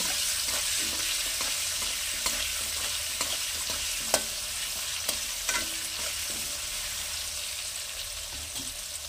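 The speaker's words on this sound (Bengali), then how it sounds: "আলুটা ভাজা হয়ে গেছে, আলু তুলে রাখছি।" Potatoes fry in oil with a little turmeric, making a continuous soft sizzle and crackle with a few sharp pops and spatula clicks, close and moderately quiet, with no speech.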